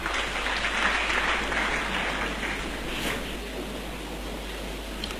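A church congregation applauds in sustained, dense clapping that stays loud throughout and eases slightly toward the end, with no speech over it.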